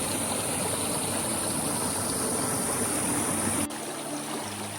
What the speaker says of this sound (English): Okay, I guess we do get to see the creek.